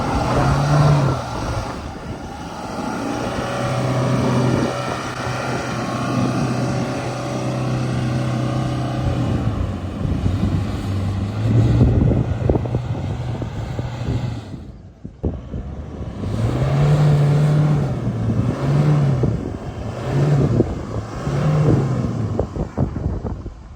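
A Toyota Hilux in 4x2 drives off-road, its engine droning steadily and then revving in bursts with wind buffeting the microphone, a brief drop midway before the engine pulls hard again.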